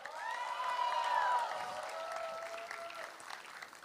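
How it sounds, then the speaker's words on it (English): Conference audience breaking into applause with cheers and whoops on top, steady dense clapping from a large crowd, with a tonal whistle or feedback-like line riding over it early on. "Can we have a big, big, big round of applause for them?"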